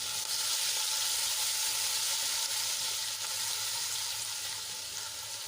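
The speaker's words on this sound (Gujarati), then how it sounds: "તેલમાં આપણે એને સરસ રીતે સાંદળી લઈશું" Steady, loud sizzling of ginger, garlic and chili paste frying in hot oil, a continuous crackling hiss filling the whole stretch with no talking.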